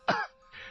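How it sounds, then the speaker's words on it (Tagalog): A young man gives a single harsh cough, close and fairly loud, followed by a softer breathy second rasp. "muli na naman siyang inihit ng pag-ubo"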